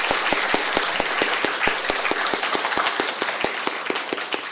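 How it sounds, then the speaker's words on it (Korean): Audience applause at an inauguration Mass for a new president of a Catholic university: a steady, dense round of clapping with one sharp, regular beat standing out, sustained evenly and fairly loud throughout. "박수 한번 치세요."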